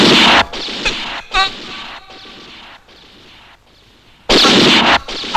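Police open fire in a dramatic movie scene: loud, sharp gunshot blasts break out at the start and again near the end, with a quieter stretch of lingering noise between them.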